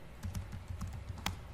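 Quick, light keystrokes on a computer keyboard, a short close burst of irregular taps with one sharper click near the end, alone and fairly faint.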